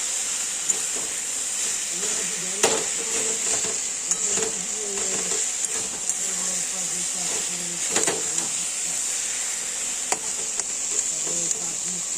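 Taro leaves fry in a pan with a constant bright sizzle and hiss, broken by scraping stirs and occasional utensil knocks against the pan, with a voice in the background.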